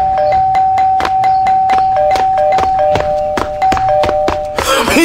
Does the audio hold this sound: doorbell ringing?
yes